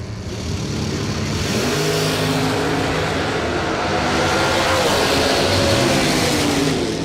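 Drag racing cars, among them a yellow Camaro with a 30-gallon fuel tank, launching at a bracket racing event: loud, sustained engine roar and revving holding steady throughout, with no talk.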